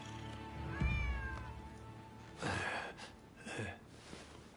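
A stray cat meows in Rise of the Ronin, giving several distinct, fairly close calls spaced across a few seconds over quiet game ambience.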